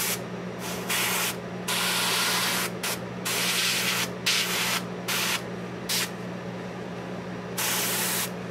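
An airbrush sprays paint onto a resin-printed Darth figure, a close hiss that starts and stops in short bursts over a constant low hum, and no one speaks.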